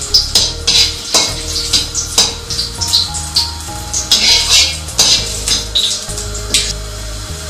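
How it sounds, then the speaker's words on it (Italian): Ginger slices sizzle and fry in hot oil in a pot, a steady crackling hiss with scattered sharp spatters and occasional utensil clinks, close and loud throughout. "mettere l'olio nella nostra pentola, mettere subito i 2 spicchi di zenzero per appunto far insaporire"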